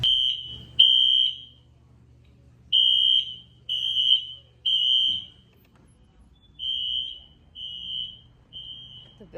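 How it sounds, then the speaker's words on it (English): A loud, piercing fire alarm sounds in repeated high-pitched bursts, pausing briefly between groups of beeps. "This fire alarm just went off. It's so fucking loud."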